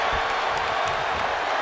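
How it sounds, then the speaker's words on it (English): A packed virtual arena crowd cheers in WWE 2K24, a steady, dense roar of voices and whoops that holds at an even level throughout. "The sound of this crowd is deafening, and he's asking for more."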